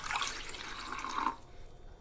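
Filtered water pours from a Brita pitcher in a home kitchen, a short, faint trickling stream that cuts off partway through, with a drip near the end.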